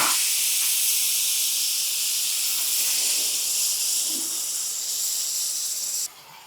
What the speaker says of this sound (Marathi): हे गरम गरम पळीभर दूध या कॅरमलमध्ये घालायचं